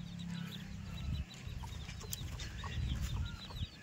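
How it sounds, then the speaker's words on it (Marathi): Domestic hens cluck and murmur near a house, soft repeated calls over a low rumbling background, fairly faint and a little distant. "तर ह्या ठिकाणी आमच्या कोंबड्या बरं का मित्रांनो."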